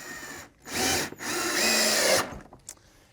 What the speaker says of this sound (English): we can drive a couple extra screws just to strengthen it up